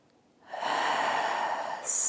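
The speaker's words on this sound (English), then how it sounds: "you're just gonna breathe into them." One long, deep, airy breath drawn close to the listener during a diaphragm fascia self-release, rising suddenly and holding steady for over a second, followed by a brief sharper hiss.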